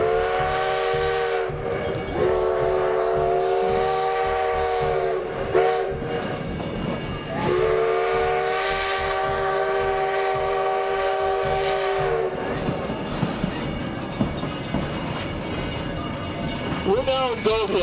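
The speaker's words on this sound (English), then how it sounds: "I'm just going to be quiet and listen to the steam whistle." A steam locomotive sounds its whistle at a road crossing near Gold Hill, blowing two long, loud blasts separated by a short gap, with the rumble of the moving train beneath and faint talk afterward.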